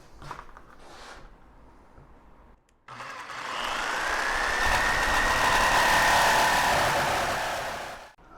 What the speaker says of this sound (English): we're just going to go ahead and see how this aluminum cuts